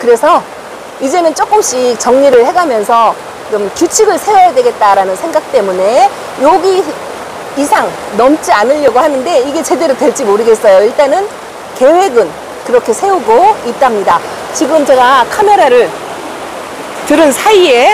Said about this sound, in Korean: 빗소리 들리시나요? 비가 엄청나게 쏟아져요.